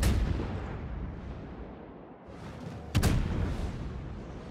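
Battleship guns fire a salvo in the World of Warships naval game, rumbling low and fairly faint, then a sharp, sudden blast partway through followed by a rolling boom.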